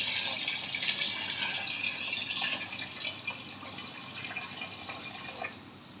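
Water pours steadily into a pot of soaked rice being cooked for vegetable biryani, a continuous bright splashing fill sound, fairly soft and close, with no talking.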